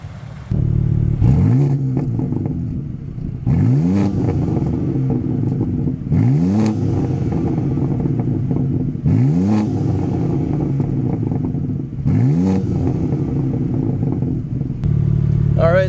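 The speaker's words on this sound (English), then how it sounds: "So that was a little exhaust test there." 2024 BMW M2 with an inline six in Sport Plus mode, revved repeatedly while parked: five sharp rising exhaust blips in an even rhythm over a steady idle, loud and close, with no talking.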